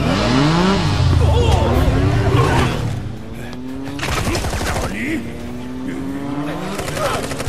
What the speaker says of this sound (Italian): vai così, vai con la moto